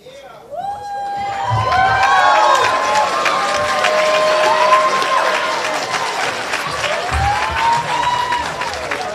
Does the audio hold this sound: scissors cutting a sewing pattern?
no